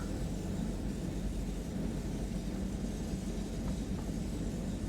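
A steady rushing rumble of a passing train heard from a 1997 DB BR 103 locomotive cab on the Left Rhine line, a constant low roar with no distinct beats and no voices.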